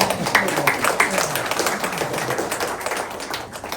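An audience at a lecture on public servants' sense of calling claps together, a dense, brisk patter of many hands filling the room at fairly strong volume and thinning slightly toward the end.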